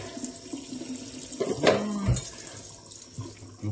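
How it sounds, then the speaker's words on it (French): Water runs from a sink tap as potatoes are washed in a home kitchen, a steady close stream with a louder gush and splashing partway through. "Je vais laver les patates déjà tout à l'heure."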